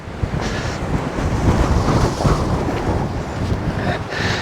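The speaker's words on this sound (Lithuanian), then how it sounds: "vėjas labai gūsingas" Gusty mountain wind in Spain batters the microphone on a cool winter day, a loud, rough, continuous rumble that swells and eases, close and with no voices.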